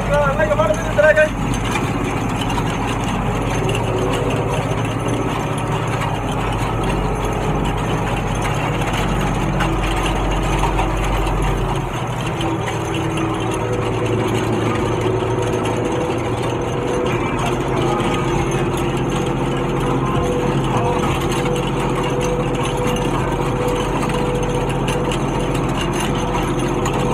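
A farm tractor engine warms up for meadow harrowing, its steady low idle droning throughout with a shift in tone partway through, close and continuous under occasional voices.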